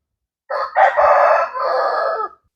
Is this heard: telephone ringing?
no